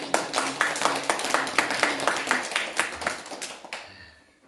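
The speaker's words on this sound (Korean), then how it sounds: "박수 주십시오." An audience at a Daejonggyo religious gathering claps together in a steady, brisk round of applause for nearly four seconds before it fades out.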